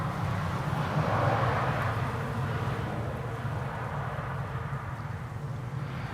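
An EasyJet Airbus A319 airliner arriving from Newcastle gives a steady, broad jet roar with a slight swell early on, then settles into a continuous rumble at moderate distance with no voices.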